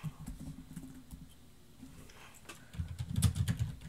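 A computer keyboard clicks in quick, irregular bursts of soft taps, close and moderately loud, with a denser flurry of keystrokes near the end and no talking.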